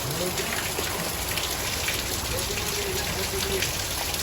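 Heavy monsoon rain pours down in a dense, continuous patter and hiss on surfaces nearby, with faint voices in the background.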